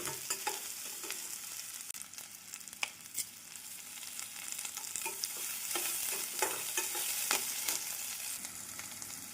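Sliced onions with rock salt being sautéed and stirred in a pan for a plain vegetable salna, giving a soft continuous sizzle punctuated by scraping spoon strokes and clinks, close and fairly quiet, with no talking.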